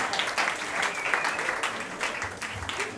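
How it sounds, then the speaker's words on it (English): Comedy club audience clapping for itself at a live show, a continuous mass of claps with some whoops and voices mixed in, lively and moderately loud. "can you guys clap for yourselves for coming out and see some damn comedy tonight?"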